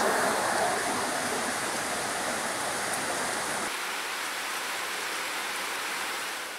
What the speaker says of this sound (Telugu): పైనుంచి పడుతున్న చినుకు రవలు ఉపశమనాన్ని ఇస్తున్నాయి